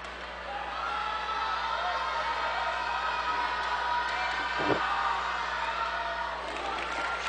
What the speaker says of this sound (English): See some of the Raider cheering section